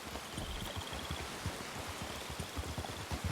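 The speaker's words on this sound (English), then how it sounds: "I hate it when it rains because I get the worst, like, noise." Steady rain falls, a constant broadband hiss with patter of drops on surfaces, continuous and moderately faint throughout.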